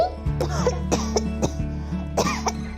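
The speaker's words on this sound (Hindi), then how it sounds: "खांसी" Several sharp coughs in a row, close and fairly loud, with a steady low hum running underneath.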